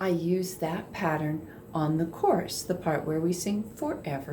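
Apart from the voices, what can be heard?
No everyday noises stand out.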